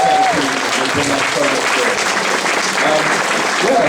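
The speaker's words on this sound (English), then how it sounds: "Just a round of applause, please, for them." A convention audience claps loudly through a closing ceremony, a broad, steady wash of applause from a large crowd, while a voice speaks faintly underneath.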